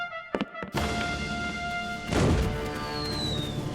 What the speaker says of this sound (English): I ordered my cannon to fire when they get into position.